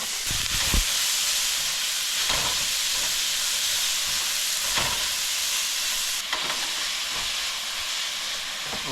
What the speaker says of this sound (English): Just put in the diced onion and the diced celery.